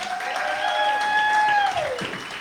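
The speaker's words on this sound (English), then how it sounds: "Another round of applause for Mr." A crowd applauding at an anniversary celebration show, continuous clapping under a held tonal note that slides down near the end, moderately loud and steady.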